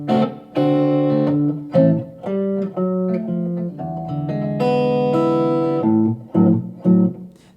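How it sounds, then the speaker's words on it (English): A blues guitar plays a boogie-woogie turnaround: a short phrase of plucked, sustained notes and chords, close and clear, rising and ringing out before a few final stabs, with no voice over it. "a boogie-woogie turnaround is a musical passage that's at the end of the chord progression"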